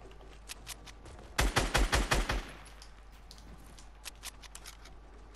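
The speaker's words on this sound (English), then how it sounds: "Someone's shooting zombies." Seven fast, sharp gunshots fire in a tight rhythmic burst while zombies are shot in a video game, followed by scattered fainter distant shots and clicks over a low steady hum.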